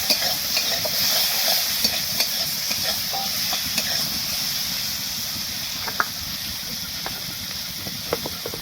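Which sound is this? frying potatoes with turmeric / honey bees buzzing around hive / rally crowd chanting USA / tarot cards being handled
frying potatoes with turmeric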